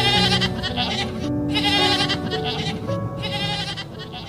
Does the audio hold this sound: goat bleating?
yes